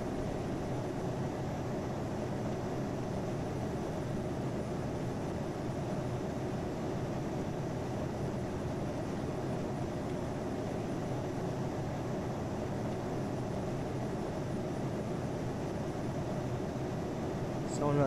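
Steady broadband engine roar inside the cabin of a Southwest Airlines Boeing 737-800 in flight from Denver to Atlanta, a constant even drone that carries on unchanged throughout.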